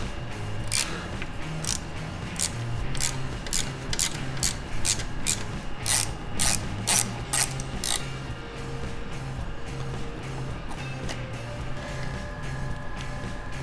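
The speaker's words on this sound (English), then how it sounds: "let's start taking it apart. It's going to be pretty snug, so make sure you use a nice socket." A socket ratchet loosens snug bolts on a stern drive impeller housing, a run of quick rasping clicks repeating in short bursts at close range over a steady background hum.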